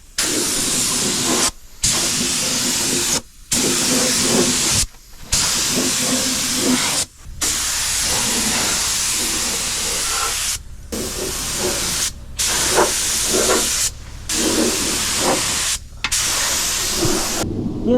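Aerosol can spraying a second coat of black Rustoleum onto a camper van frame, long loud hissing bursts broken by short pauses between passes.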